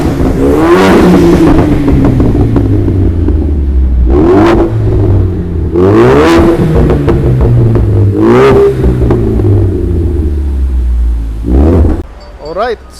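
A turbocharged four-cylinder Ford EcoBoost engine with a repaired exhaust revs loudly and repeatedly up close, each rise and fall rumbling over a steady idle, with voices talking over it, before cutting off near the end.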